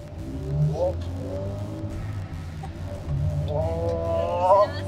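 A Subaru Impreza fitted with a changed turbo drives along, its engine droning low and rising in pitch as it accelerates twice, with people talking inside the car over the engine.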